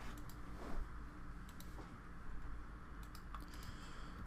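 Quiet, irregular clicking of keys on a computer keyboard, several soft taps scattered across a faint room background.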